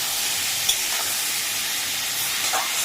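Fish curry with slit green chillies, salt and turmeric sizzling steadily in a pan as it is stirred, a continuous close frying hiss with faint scrapes, no talk.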